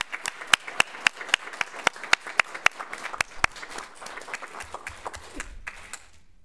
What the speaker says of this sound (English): a big round of applause for this great team